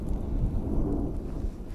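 Low, rumbling booms roll in from far away, a muffled continuous thunder-like pounding of distant artillery near the Kharkiv front line in Ukraine, with no voices present.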